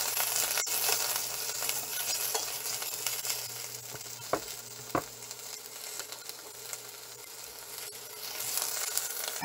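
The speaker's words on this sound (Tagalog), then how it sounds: "Igisa niyo po muna siya sa mantika." Onion sautéing in a tablespoon of cooking oil, a steady bright sizzle throughout with a few faint clicks of a utensil, close and continuous.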